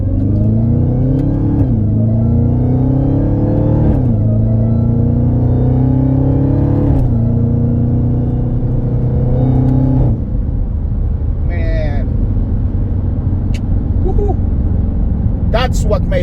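A Hellcat's internal combustion engine revs loudly in repeated rising and falling sweeps for about ten seconds, then settles into a steady rumble with a few faint chirps near the end.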